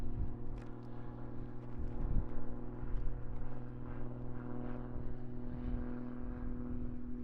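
An Extra 330 SC aerobatic propeller plane flies at an aerobatics championship, its steady droning engine hum continuous and fairly distant, with no voices over it.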